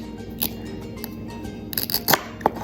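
Scissors snip through food in a home kitchen while fajitas or pizza are being prepared, a few quick crisp cuts spaced irregularly, close by with no talking.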